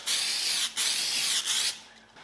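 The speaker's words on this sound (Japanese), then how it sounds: "ツヤ出しスプレー塗ります" Gloss spray hisses onto the dented bonnet of a Mazda RX-7 FD3S under restoration, in three close, steady bursts separated by short pauses, the last one fading out.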